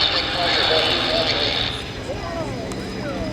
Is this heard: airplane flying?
yes